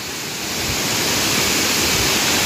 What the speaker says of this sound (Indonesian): jadi air terjun Lamasua ini adalah salah satu dari ratusan air terjun yang ada di Desa Bontomasunggu ini